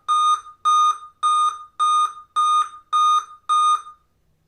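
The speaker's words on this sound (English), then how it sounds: "It is beeping, so now I'll mute." A computer emits seven loud, evenly spaced electronic beeps after being powered on, each a piercing tone with a brief double pulse, followed by silence.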